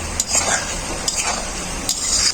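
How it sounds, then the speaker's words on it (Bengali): Potatoes sautéing in a pan with spices and cashew paste, a low sizzle under repeated scraping strokes of a spatula against the metal. "খুব ভালো করে কষিয়ে নেব মশলার সাথে আলুটাকে"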